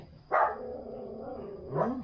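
A guard dog barks twice, loud and close, with a low growly tail after the first bark and a steady background hum.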